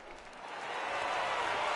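Crowd applause and cheering fill a baseball stadium in a video game, a steady wash of clapping and noise that swells slightly louder toward the end, with no talk over it.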